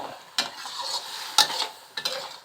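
Eel stir-fried with red curry paste in a pan: three sharp scrape-and-toss bursts land about a second apart, each trailed by a steady, close sizzle.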